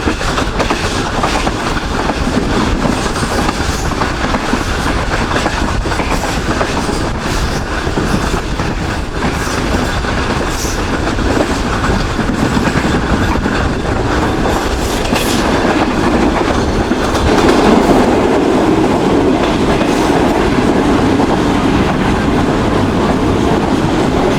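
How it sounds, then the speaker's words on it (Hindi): Shalimar Express passenger train rolling steadily on rails near Mirpur Mathelo station, a loud continuous rumble with rhythmic clickety-clack of wheels over joints, no voices. "ये ट्रेन हमारी इस वक्त अप्रोच बना रही है मीरपुर माथेलो रेलवे स्टेशन पर"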